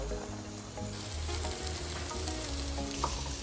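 Onions frying in coconut oil for a chicken curry, a steady close sizzle with light crackling and occasional stirring scrapes, continuous and fairly loud throughout.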